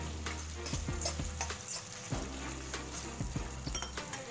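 Bistek tagalog beef fries in a pan with a soft, steady sizzle, broken by occasional clinks and scrapes of a utensil against the pan, fairly quiet and without talk.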